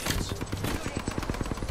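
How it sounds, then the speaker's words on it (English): Rapid automatic gunfire in a video game, a dense run of sharp repeated shots in quick rhythm, fairly close, with a faint voice mixed underneath. "You start shooting at them now."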